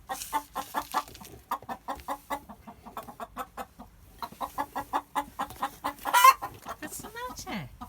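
A flooded hen squawks in alarm with rapid, repeated clucks and sharp cries in uneven bursts, close and loud, with other chickens joining in.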